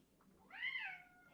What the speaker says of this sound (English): Why are you meowing like this?